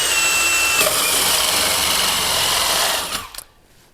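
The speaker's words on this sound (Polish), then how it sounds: "Przewiercimy troszeczkę z jednej strony, a później dokończymy to z drugiej strony" A 25 mm bimetal hole saw drilling through plywood, a loud steady whining grind that holds for about three seconds and then stops abruptly as the drill winds down.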